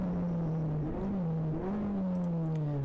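A race car engine, heard from onboard, revs up and drops in pitch as it moves through downshifts, a steady loud drone with blips running without pause for about three seconds.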